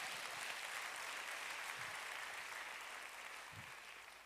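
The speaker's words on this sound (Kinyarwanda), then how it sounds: "Dukomere Imana amashyi cyane." A church congregation claps steadily throughout, a dense, even wash of applause heard from some distance and fading slightly at the end.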